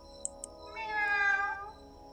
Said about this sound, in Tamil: பூனை சவுண்டு